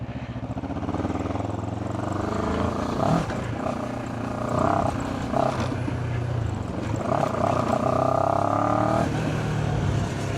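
A QJ Motor SRT 700 adventure motorcycle's 700cc engine runs with a steady throbbing drone, held high in the revs with a few brief rises in pitch, loud and close, no voices.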